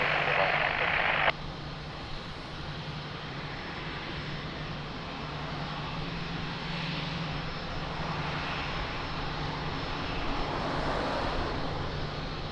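An airliner on approach to runway 02 at Lisbon Airport rumbles overhead with a broad, steady jet roar that swells slowly as it nears, after a brief burst of wind noise at the start.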